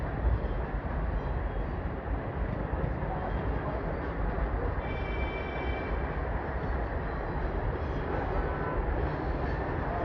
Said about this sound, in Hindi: अमरपाली एक्सप्रेस यहाँ से चल रही है